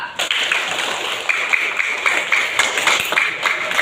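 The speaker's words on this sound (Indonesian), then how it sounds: "Tepuk tangan untuk 5A" A class of schoolchildren, class 5A, claps in a short, fairly faint burst of quick repeated claps over a room hum.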